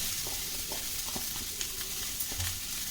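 Coriander and onion frying in oil, a steady soft sizzle with light scraping and stirring throughout, close and continuous with no voices.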